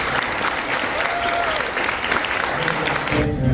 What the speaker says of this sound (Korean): 함께 세운 우리 박수로 한번